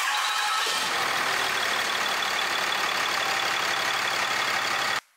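RAM 2500 with a Cummins diesel engine fitted with an intake horn starts up and runs, a loud, dense steady rumble with a rhythmic clatter that continues for several seconds before cutting off abruptly.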